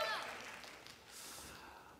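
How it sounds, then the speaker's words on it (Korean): Applause from a church youth-group congregation during a sermon, a steady broad wash of clapping that fills the whole moment and gradually softens toward the end. "우리 수고하셨는데 박수 한번"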